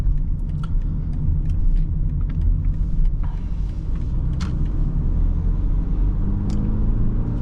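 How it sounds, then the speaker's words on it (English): A 2023 BMW X3 30i xDrive accelerates on a test drive, its engine revving with a steady loud rumble from inside the cabin, rising slightly in pitch, with faint small rattles and no talk. "This is a really rev happy engine."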